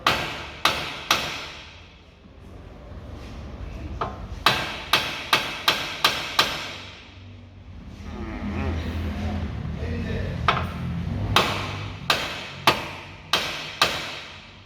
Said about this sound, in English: we're going to use our hammer and hit right here to loosen it a bit